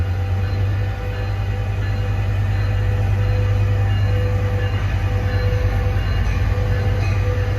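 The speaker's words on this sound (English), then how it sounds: "And here departs the other train." A Metrolink or Surfliner passenger train pulls out of Fullerton Station, its locomotive engine droning low and loud with a steady rumble and wheel noise close by throughout, and no talking.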